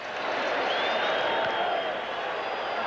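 Baseball crowd at a 1986 Pirates vs Mets game, a steady roar of cheering and clapping as fans urge a strikeout, loud and continuous throughout with no pauses.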